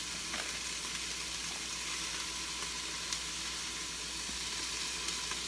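Onions sizzle in an Instant Pot set to sauté, a continuous soft hiss with occasional tiny pops. The sound is fairly quiet and even, with no voices.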